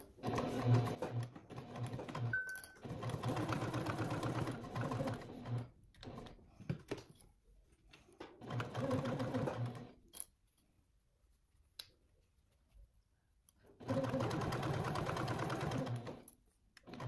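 A sewing machine stitches fabric pieces for a trick-or-treat bag in several quiet runs of rapid whirring needle strokes, each lasting a few seconds and separated by short silent pauses.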